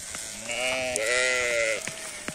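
A sheep on an Azerbaijani farm, part of a flock of pregnant ewes for sale, lets out one long, wavering bleat at close range, with faint shuffling and knocks around it.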